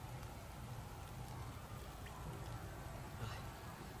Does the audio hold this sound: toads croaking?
no